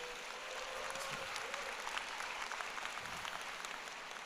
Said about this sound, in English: That's probably gonna be the biggest clap because it was for y'all.